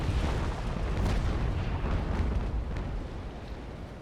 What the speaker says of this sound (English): as I will be passing by I'm getting ready to unleash a broadside.